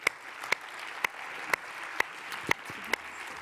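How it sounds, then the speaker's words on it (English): A small audience applauding conference speakers, soft diffuse clapping beneath a row of sharp, evenly spaced louder claps from one nearby pair of hands, roughly two per second. "a round of applause for all of you"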